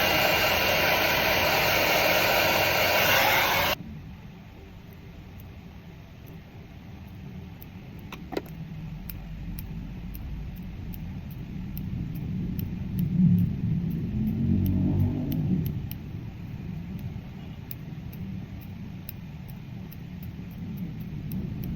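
A handheld blow dryer drying hair gives a loud, steady whirring rush for the first few seconds, then cuts off abruptly, leaving only a low background rumble.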